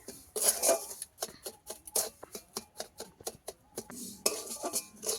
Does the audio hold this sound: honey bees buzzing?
no